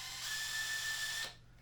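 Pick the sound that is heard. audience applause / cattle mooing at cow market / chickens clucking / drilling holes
drilling holes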